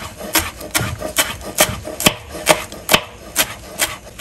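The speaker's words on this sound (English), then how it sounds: "Get in there some more chop it up really finely" Rapid knife chops through cilantro leaves against a cutting board, about two per second in a steady rhythm, close and crisp with no voices.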